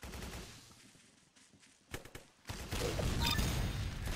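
Rapid bursts of gunfire from a banana gun in the Roblox game Arsenal, loud and dense, with a brief lull before heavier firing resumes.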